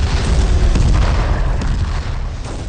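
Heavy, continuous booming rumble like cannon fire, loud and dense throughout with deep low-end blasts and no clear gaps.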